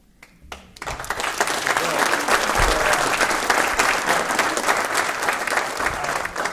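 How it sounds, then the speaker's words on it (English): Morning audience at a business talk bursts into loud, sustained applause that swells quickly and holds steady with dense clapping, faint voices mixed in near the end. "He even got you all to applaud at this time of morning."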